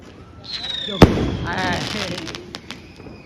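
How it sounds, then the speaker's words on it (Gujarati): A loud Diwali firecracker bang followed by crackling bursts and sputtering pops overhead, with scattered sharp cracks fading afterward; voices murmur faintly in the background. "આ બોમ્બ એ ઉપર ફૂટશે હવે"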